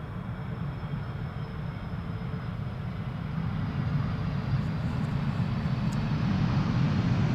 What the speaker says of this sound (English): KLM A330.